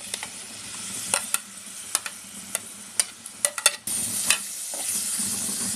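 Marinated prawns frying in oil in a kadhai for a Malvani prawn masala, a steady close sizzle punctuated by sharp clinks and scrapes of a spoon stirring, with no voices.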